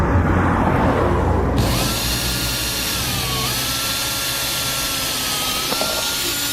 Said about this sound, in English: you drill your hole